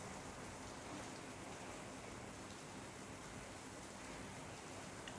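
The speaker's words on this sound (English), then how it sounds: "It's been raining pretty heavy for a couple of days now." Heavy rain falling outdoors after days of downpour, a steady, dense hiss of drops that stays even and fairly faint throughout with no voices.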